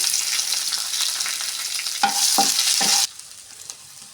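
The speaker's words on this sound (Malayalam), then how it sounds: "കറിവേപ്പില ഇടുന്നുണ്ട് ഞാനിതാ. വെളുത്തുള്ളി ഇഞ്ചി പേസ്റ്റ്," Curry leaves and garlic-ginger paste hit hot oil with a loud, steady sizzle and a few sharp spattering bursts, then the frying drops to a quieter hiss near the end.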